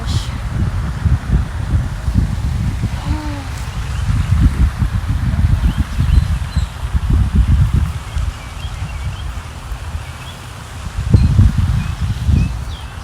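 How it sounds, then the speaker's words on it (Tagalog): Outdoors, wind rustles through leaves in uneven gusts of soft rushing noise, with brief quiet voices and faint bird chirps mixed in. "Mahangin."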